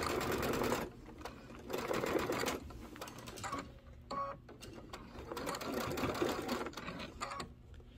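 A home sewing machine stitches through thick folded velveteen for a trapunto pineapple pouch, running in several bursts of close, steady mechanical whirring separated by brief pauses and small clicks.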